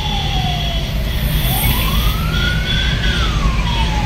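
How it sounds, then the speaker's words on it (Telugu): An ambulance siren passes along a busy road in Kerala on the route toward Sabarimala, wailing continuously with a rising and falling pitch over steady, loud traffic rumble; no one speaks. "side ambulance వస్తున్నట్టుంది"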